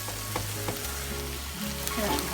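Spinach seasoned with salt and white pepper sizzles and stews steadily in a pan, with a constant close frying hiss and a few soft stirring sounds, no talking.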